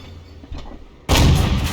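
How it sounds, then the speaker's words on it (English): A tank cannon in a video game fires standard ammo: after a quiet rumble, one loud, sudden boom hits and keeps rolling to the end. "Firing standard ammo now."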